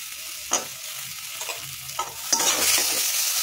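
Peanut chutney paste hits a hot pan and sizzles steadily, with a few sharp scrapes and taps of a spoon stirring it, the frying hiss swelling louder toward the end.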